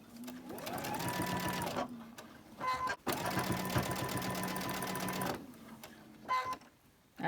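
A sewing machine runs in two long bursts, stitching two pinned fabric pieces together, with steady whirring motor hum and brief pauses between runs; close and fairly loud.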